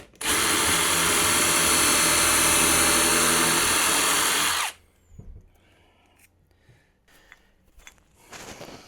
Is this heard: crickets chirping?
no